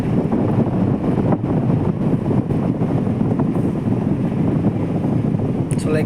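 A steady, broad whooshing rush of air from a fan, running continuously and fairly loud throughout.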